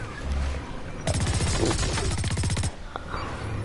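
Rapid machine gun fire in the shooter game Blacklight Retribution, a loud sustained burst of closely spaced shots lasting over a second, with a quieter shot or two after.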